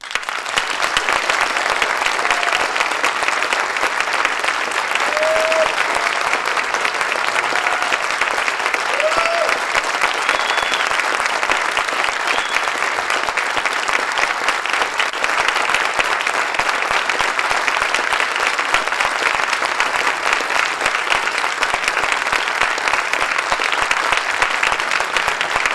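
Sustained audience applause greets a guest at The Radio Festival, a dense, even wash of many hands clapping that carries on loudly for the full length without pause.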